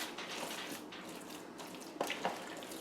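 Water poured into a batch of ground venison summer sausage mix, a steady broadband splash and trickle running throughout at moderate level, with a couple of brief sharper splashes near the end.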